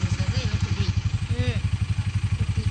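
A motorcycle engine idles in a village, thumping in a fast, even pulse close by, with a voice speaking briefly over it.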